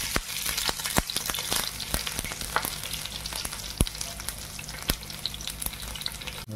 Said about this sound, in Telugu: ఇది కొంచెం వేగాక కొంచెం వెల్లుల్లిపాయలని వేసుకోవాలి.